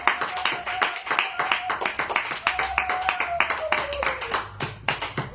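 A church congregation claps hands in a steady, brisk rhythm, many hands striking together in even beats for the whole stretch, with a faint sung or hummed tone drifting underneath.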